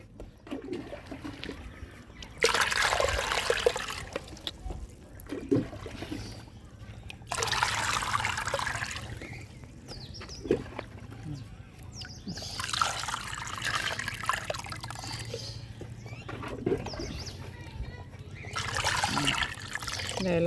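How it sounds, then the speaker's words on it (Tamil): Water poured into a pot for growing lotus plants at home: gushing pours come in several bursts a few seconds apart, fairly close, with a quieter trickle and background hum between them. "இந்த இலை வரைக்கும் தண்ணி ஊற்றணும்."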